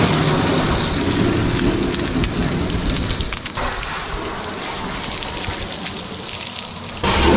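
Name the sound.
water rinsing dust off a truck body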